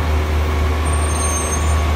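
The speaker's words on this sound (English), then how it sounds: "the truck moves," A concrete delivery truck moves through an expressway construction site on the DUKE 3 Setiawangsa-Pantai Expressway, giving a loud, steady low engine rumble that holds without a break.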